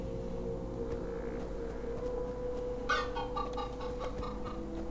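Chickens clucking in the Minecraft: Story Mode video game, a steady game ambience with a burst of several sharp clucks near the end over a low constant hum.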